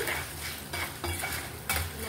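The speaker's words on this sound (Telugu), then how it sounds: "ఇదంతా బాగా కలిసేలాగా కలుపుకోవాలి." A spoon stirs a quiet tempering with salt and turmeric in a pan for ravva pulihora, making soft scraping strokes in a loose rhythm of about three passes over two seconds.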